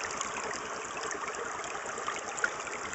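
Water rushes steadily through a prospecting sluice box set in a stream, a continuous close trickling wash with small splashes and no voices.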